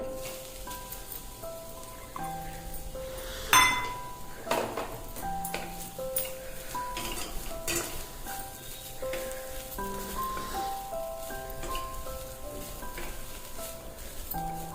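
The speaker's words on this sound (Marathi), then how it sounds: "एक मिनिट भर याला परतून घ्यायचंय, फक्त जास्त भाजायचं नाही आपल्याला" Freshly grated coconut sautéed in a pan for sweet modak filling, a steady soft sizzle and crackle running throughout, with one sharper clink of a utensil against the pan early on and faint stirring scrapes.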